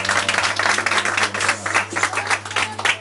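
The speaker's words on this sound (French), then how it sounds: "Applaudissez très fort" Applause and clapping from a gathering at the Bon Berger orphanage in Nkoabang, Yaoundé, a dense, steady patter of hands over a constant low hum, continuing for about three seconds without speech.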